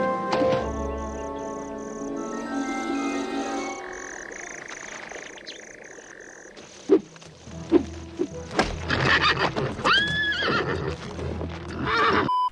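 A video game horse, the Raid champion Marius, gives a loud whinny, then hooves clatter and further snorts and neighs follow amid game effects and a steady musical tone.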